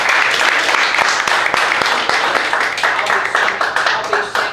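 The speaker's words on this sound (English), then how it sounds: "Y'all give Shanna a hand for standing." Audience at a cowboy church clapping for Shanna, a steady dense patter of many hands that carries on for several seconds at close, fairly loud level before starting to thin.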